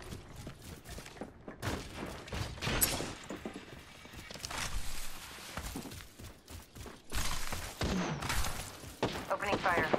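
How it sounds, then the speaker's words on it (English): Apex Legends gunfire crackles in repeated bursts of shots, loud and close, separated by brief quieter gaps, with in-game voices speaking between volleys. "Opening fire. Getting shot at."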